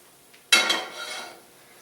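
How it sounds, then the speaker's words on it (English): A metal pan set onto a home stovetop lands with a single clattering clank and a short ringing rattle that fades over about a second, close by in a quiet kitchen. "Get this pan on here."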